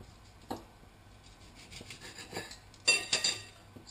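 A knife cuts a tomato into thick slices on a wooden board: a handful of short, crisp cuts and board taps spread across the clip, with the loudest cluster near the end and no talk.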